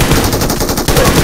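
Heavy automatic gunfire from a big gun in the battle royale game BGMI/PUBG, a dense, steady burst of rapid shots that stays loud for the whole moment, with a brief dip near the end before it resumes.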